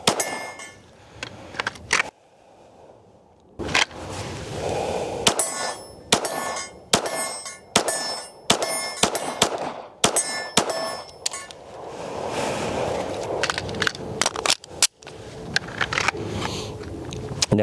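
An Archon Firearms Type-B pistol fires a string of sharp shots, each followed by a metallic clang from steel targets, in quick pairs and single taps with short pauses between groups.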